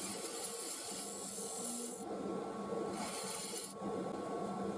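A Dremel rotary tool cuts a mortise into wood, giving a steady rasping, grinding drone with a faint whine. It dips briefly twice as the bit is repositioned.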